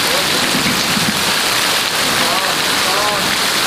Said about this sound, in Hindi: ओले गिर रहे हैं